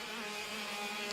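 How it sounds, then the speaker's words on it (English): Racing kart engine passing close on a kart circuit, a steady high-pitched whine held for about a second with no talk over it. "Novalak will come past the stranded green kart in just a moment."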